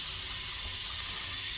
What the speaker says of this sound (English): I'm going to turn the water and see what happens if it fills up all the way